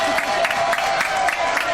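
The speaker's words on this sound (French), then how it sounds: "Applaudissements s'il vous plaît" A studio audience applauds and cheers at a French television entertainment show, steady and continuous throughout, with a tonal hum running beneath the crowd.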